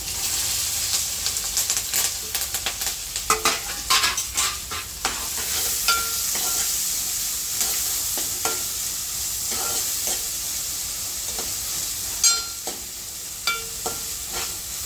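Onion, green chili and curry leaves fry in a pan for ivy gourd masala curry, a close hiss of frying broken by frequent clattering stirs of a spoon against the pan.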